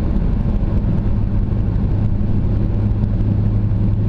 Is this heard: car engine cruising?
yes